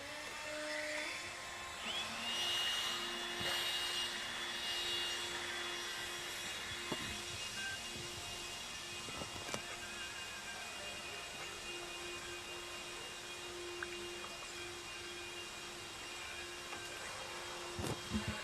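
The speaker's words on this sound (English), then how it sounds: "Grab your blowers, blow off your designated area." Leaf blowers blowing debris off the driver stand at an outdoor RC dirt raceway, a continuous whooshing roar with steady droning tone and occasional knocks, fairly distant and sustained throughout.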